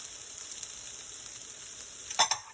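Meat cooks in a pan for carbonara with a quiet, steady sizzle, then a couple of brief louder clatters near the end as it is stirred.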